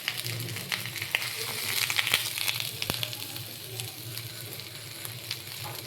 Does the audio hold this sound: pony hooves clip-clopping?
no